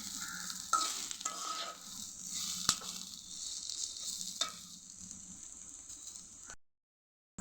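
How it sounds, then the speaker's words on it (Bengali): Bitter gourd (ucche) and potatoes sizzle in a pan with close scraping stir strokes and a few sharp clinks, before the sound cuts to silence near the end. "আর এই যে উস্তা ভাজি হচ্ছে, আলু দিয়ে উস্তা ভাজি"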